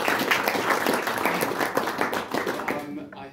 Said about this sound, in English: I'd just like to give a round of applause for our presenters.